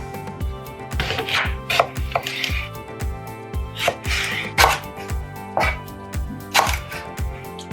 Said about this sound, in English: So let's cut these veggies.